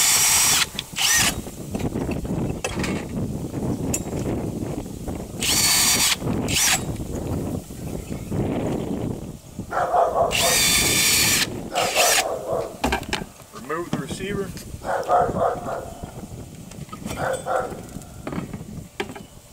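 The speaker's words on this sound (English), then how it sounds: "and then drill your pilot holes all the way through." A power drill bores 5/16-inch pilot holes for lag bolts while a jet ski dock receiver is mounted, with repeated loud bursts of whirring and grinding against wood broken by short pauses.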